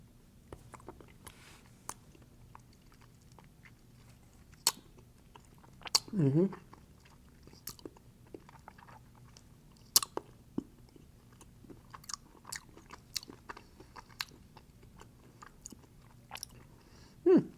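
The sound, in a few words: chewing a Pocket Latte mocha chocolate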